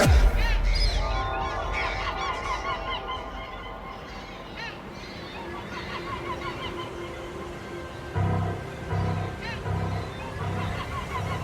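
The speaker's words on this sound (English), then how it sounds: "its famous seagulls." Seagulls at the seaside town of Rhyl, Wales, call repeatedly in short, honking cries over a steady busy background, some calls close and loud, others farther off.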